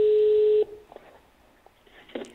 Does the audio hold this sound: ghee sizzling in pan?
no